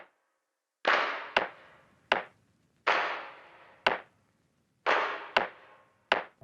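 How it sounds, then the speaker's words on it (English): Processed electronic clap sample from a remake of a song, shaped with reverb and a transient shaper for a wide, short sound: seven sharp claps in an uneven rhythm, each with a brief reverb tail, loud and alone. "You can hear the clap in the song is quite wide"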